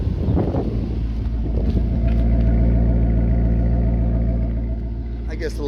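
After a switch to sport mode, a 2017 Maserati GranTurismo gives a deep, continuous engine and exhaust drone. It is heard up close and swells slightly through the middle before easing off.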